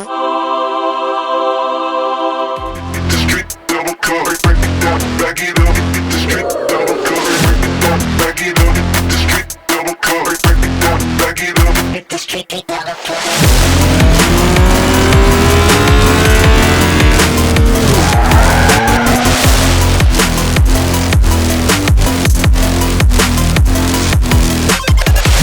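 A homemade drift cart being driven hard, with a loud, sustained motor roar and long, shrieking tire squeals that swell and fade as it slides, close and continuous, with no talking.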